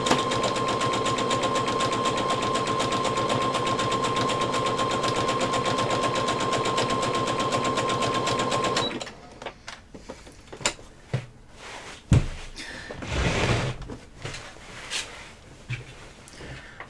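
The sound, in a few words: sewing machine stitching a seam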